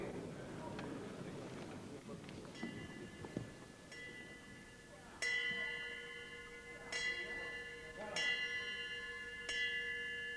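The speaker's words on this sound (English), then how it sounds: "In boxing tradition, would you please stand for the 10 bells for Bobby Moore, OBE." Ceremonial boxing bells tolled one by one at a fight night, several clear metallic rings spaced about 1.5 seconds apart over a murmuring crowd, the later strikes louder and ringing on.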